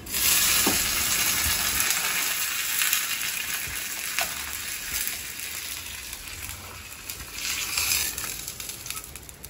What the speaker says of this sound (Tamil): இப்போ கருவேப்பிலை போட்டுருங்க.